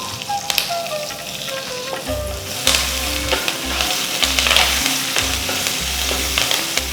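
Chopped ginger crackles and sizzles steadily in hot oil as it is stirred in a pan for ragi upma, with occasional sharp pops and scraping taps.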